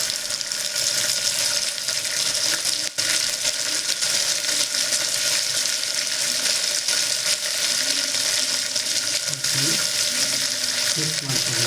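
Tomato goes into a pan of millet kichdi and is stirred in, under a loud, continuous frying hiss with faint scraping from the stirring.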